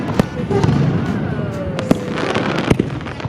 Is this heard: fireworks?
yes